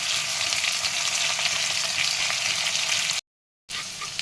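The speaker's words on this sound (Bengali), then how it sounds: "এখানে আলুটা ভাজা হচ্ছে।" Potatoes fry in hot oil with a steady, close sizzle and light stirring, cut by a brief silent gap near the end; no one speaks.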